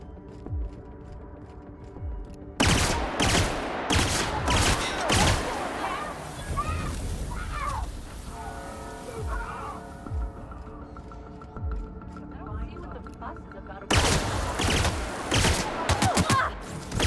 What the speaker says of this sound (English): she just Gatling gunned that man in his back